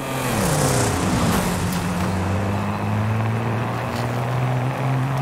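A car in Forza Horizon 5 accelerating at full throttle, its engine note climbing steadily and droning loud and close throughout with no talk over it.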